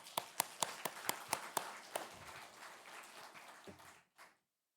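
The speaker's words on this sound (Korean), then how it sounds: "우리 부격자를 박수로 격려합시다." Rhythmic clapping from a congregation at a Friday prayer service in a Korean church, about eight crisp, evenly spaced claps close by, then scattered softer claps fading out into silence.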